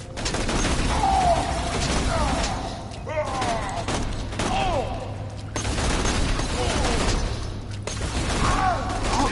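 Sustained assault rifle fire from a first-person shooter game, Borderlands, runs almost continuously in dense rapid bursts with brief pauses, loud and close, mixed with game effects.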